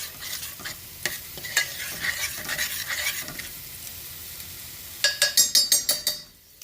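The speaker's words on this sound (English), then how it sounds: "I'm going to go ahead and mix and stir to get that ricotta cheese in there." A utensil stirs ricotta cheese into a sauce in a pan, with soft sizzling beneath repeated scraping strokes, then a quick run of sharp metallic scrapes and clinks close by near the end.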